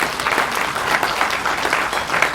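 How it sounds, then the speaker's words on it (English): An audience claps steadily at a Reagan Day Dinner in Wyoming, a dense burst of applause filling the short moment without voices. "let's give God a huge applause for that"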